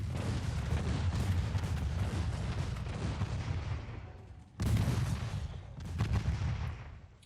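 Naval gunfire rumbles in an Ultimate Admiral Dreadnoughts sea battle, a continuous heavy barrage of booming salvos, with a sharp new burst of loud shots midway and more firing following.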